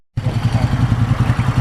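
A Moto Guzzi motorcycle engine chugs loudly and close by with a pulsing low rumble for a moment.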